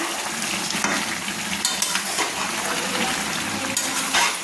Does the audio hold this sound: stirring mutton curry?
yes